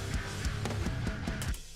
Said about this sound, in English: There's something I love about when you palm mute a chord so hard that the note just doesn't exist.